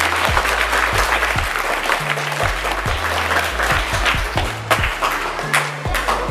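An audience at a ZP school game competition applauds for a child, with loud, continuous clapping close by and faint voices mixed into it.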